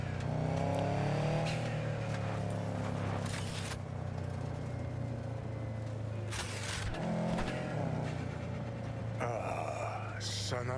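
Steady engine drone of a truck driven in Cyberpunk 2077, a continuous low rumble with occasional revving surges and scraping bursts, loud throughout with game music and effects layered over it.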